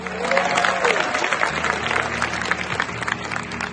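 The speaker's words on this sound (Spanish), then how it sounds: "celebrado en el gran salón de la cumbre con un estruendoso aplauso" Thunderous applause fills a large climate summit hall as an agreement is celebrated, a dense, sustained roar of clapping from a big crowd that carries on without pause.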